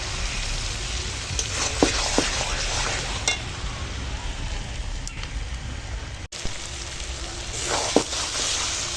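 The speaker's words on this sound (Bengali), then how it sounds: "এখন কষানো হচ্ছে কাঠের জালে আর শিলে বাটা মশলায় এখন মাংস কষাচ্ছি" Meat is sautéed with stone-ground spices in a pan over a wood fire, giving a constant close sizzle and crackle with occasional scrapes and clinks of a stirring utensil, loud and steady with no speech.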